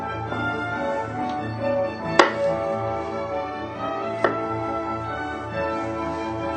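A kitchen knife slicing through a stack of onion planks on a cutting board, giving two sharp, distinct cuts a couple of seconds apart over a soft steady background, close and clear with no talking.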